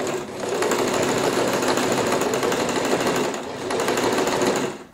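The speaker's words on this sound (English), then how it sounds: "I'm sewing right next to the canvas and not on the canvas" A sewing machine runs in a steady, loud whir, stitching denim right beside a leather canvas patch on a recycled-jeans handbag, with a brief dip in pace before it resumes.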